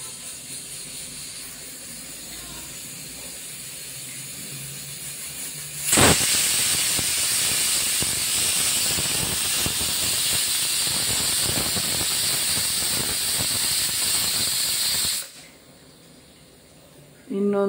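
A pressure cooker with black toor dal builds to a loud, sustained burst of hissing steam that runs for about nine seconds, then cuts off abruptly into quiet before resuming.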